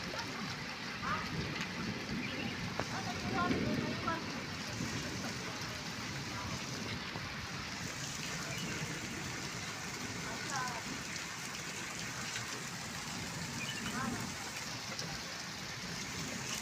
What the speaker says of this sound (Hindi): और बारिश के साथ साथ पानी भी आ गया